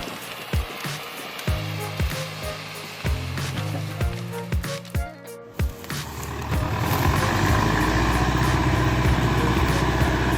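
A Zader 6211 tracked logging truck's heavy diesel engine rumbles with rhythmic thumps and clanks, then shifts into a steady louder roar with hissing noise, close by.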